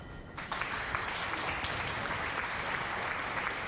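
Applause from a crowd swells in after a brief quiet moment and keeps going as steady, dense clapping at moderate volume with no talk over it.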